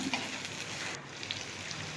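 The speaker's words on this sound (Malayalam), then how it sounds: "ഒരു ചെറിയ സവാളയും കൂടി ചേർത്തു ഒരു രണ്ട് പച്ചമുളകും കൂടി ചേർത്ത് ഒന്ന് വഴറ്റി കൊടുക്കാം" Onion and two green chillies sautéing in oil in a pan while cooking an eggplant gotsu curry, a steady close sizzle and crackle running the whole time with no talking.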